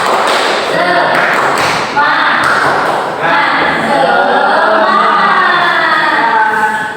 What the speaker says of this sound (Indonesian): Coba kita tepuk semangat terlebih dahulu.